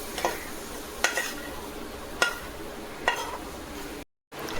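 Food is stir-fried in a pan with oyster sauce, a steady sizzle broken by four evenly spaced scraping stirs, with a brief gap of silence near the end.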